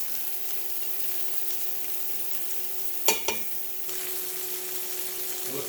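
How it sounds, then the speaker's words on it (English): Butter melts and sizzles in a frying pan beside seared lamb, a steady soft frying hiss with a couple of sharp clatters partway through. "Flipped over, I'm going to add a little bit of butter, which is melting."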